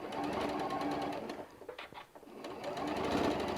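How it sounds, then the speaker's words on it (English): A sewing machine runs steadily while stitching a drool bib, whirring loudly, pausing briefly in the middle, then picking back up at full speed. "I didn't back stitch where I started, so I'm going to go ahead and just stitch down on top of that."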